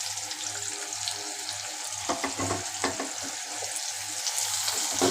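Onion paste goes into hot oil in a pan for an egg curry, giving a steady sizzle with a few sharp spattering bursts midway that settle back into constant frying.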